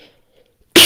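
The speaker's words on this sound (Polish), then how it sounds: "Przepraszam za mój kaszel, jeszcze jak słychać nie wyleczyłem się do końca." A single sharp cough from a man still recovering from illness, loud and close, bursting out of near silence at the very end.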